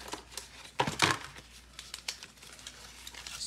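Plastic blister packs of Pokemon Obsidian Flames cards are handled and opened up close, with sharp crinkling and tearing bursts, loudest around the first second, then lighter rustling.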